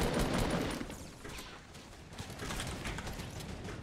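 Sustained bursts of gunfire crackle in a Fortnite battle royale fight, fairly quiet and dense, with rapid shots running together over a few seconds and no speech.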